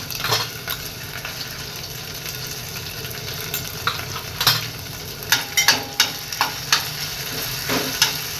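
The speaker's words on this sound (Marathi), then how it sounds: "थोडं जिरं मोहरीची फोडणी द्यायची" Cumin and mustard seeds sizzling in hot oil with garlic-ginger paste for a tempering, a steady frying hiss with stirring scrapes, then a run of sharp spatter pops near the end, close and clear.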